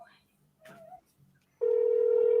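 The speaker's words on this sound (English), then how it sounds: "Can you guys hear it ringing?" An outgoing phone call begins with a steady electronic ringback tone that comes in abruptly and holds continuously after a moment of faint voices and a few short taps.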